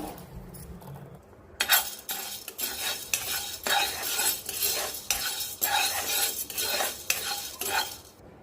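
Puffed grains (pelalu) dry-frying in a pan for temple prasadam, heard as a steady dry rattle with scraping stirs and metallic clinks of the spoon against the pan, starting abruptly after a quiet opening.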